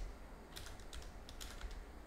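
Quick bursts of keystrokes on an unfamiliar computer keyboard, faint and close, in two short clusters of clicks over a quiet background.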